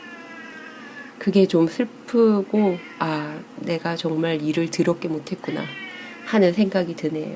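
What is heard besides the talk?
cat meowing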